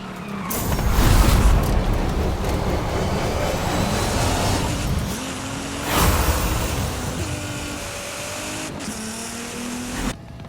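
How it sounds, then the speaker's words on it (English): A Nissan GTR races in a video game, its engine droning steadily with a continuous road rush and a surge around the middle before easing off. "I have the upper hand with momentum in the Nissan GTR."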